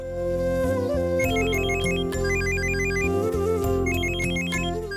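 A melodic phone ringtone plays loudly and steadily, a repeating electronic tune over a sustained backing, with no voices.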